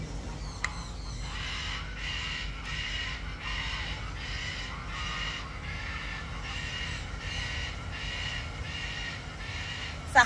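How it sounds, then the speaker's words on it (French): Parrots squawking outdoors in a repeated series of harsh, loud calls roughly once per second, running steadily for about ten seconds over a low background rumble. "Ça recommence les perroquets."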